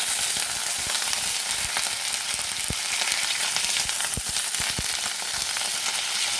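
Potatoes with cabbage and cauliflower fry in ghee over a low gas flame for a winter khichuri, giving a steady close sizzle broken by a few soft clicks and pops, with no voices.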